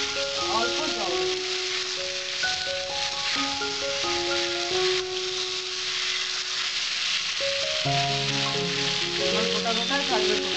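Cauliflower and potatoes sizzle steadily while being stir-fried for a Bengali phulkopi alur dalna, a continuous hiss of frying under prominent background music.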